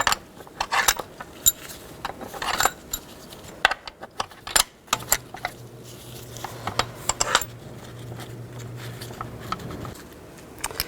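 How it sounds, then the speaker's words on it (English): Metal bolts are set and threaded back in by hand during a spark plug replacement on a 2010-16 Buick LaCrosse, giving scattered sharp metallic clinks and clicks up close, with a low steady hum through the middle stretch. "Now you can put the bolts back in."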